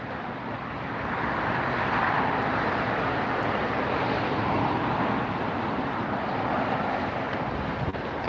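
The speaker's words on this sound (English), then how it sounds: "We got the Lufthansa A380 dropping by." Lufthansa Airbus A380 airliner passing at LAX, a broad continuous jet roar swelling after the first second and holding loud and steady, mixed with wind buffeting on the microphone.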